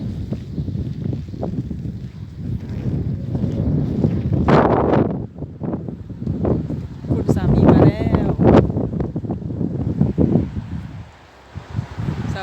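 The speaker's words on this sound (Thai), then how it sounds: "ลมแรงจ้า ลมแรงผมกระเซิงเลย" Strong, cold wind in a public park in Spain buffets the microphone with a steady low roar and gusty surges, while people talk throughout.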